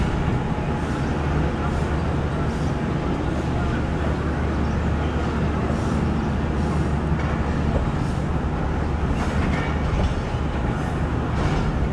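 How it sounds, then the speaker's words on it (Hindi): The 130DN Thal Express passenger train is pulling out of Attock City Junction, with a steady, loud rumble and rolling clatter that continues throughout, under a faint background murmur. "अटक सिटी से 130 डंथाला एक्सप्रेस रवाना हो चुकी है"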